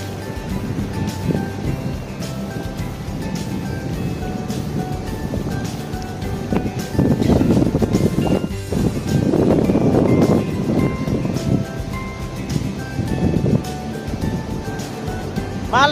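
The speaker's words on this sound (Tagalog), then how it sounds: "Ayun, lalaki ng alon dun" Large ocean waves surge and break along a rocky shore in Tamsui, Taiwan, producing a steady roar with louder swells in the middle, mixed with wind buffeting and faint voices nearby.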